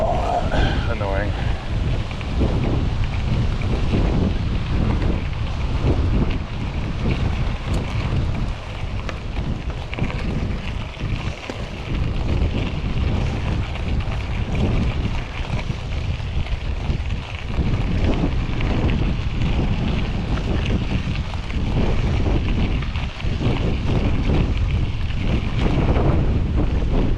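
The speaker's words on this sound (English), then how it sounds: "There's the wind." Wind buffets the microphone of a moving car on a drive from Ellensburg to Greenwater, a constant loud low roar with gusty surges, and a person talks now and then beneath it.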